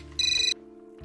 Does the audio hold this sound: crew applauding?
no